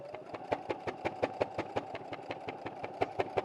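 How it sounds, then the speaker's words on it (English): A sewing machine runs in a rapid, even needle rhythm while stitching in reverse on a craft project, close and steady throughout. "when I get to the envelope, I'm just going to press the reverse stitch for a while. Carry on sewing."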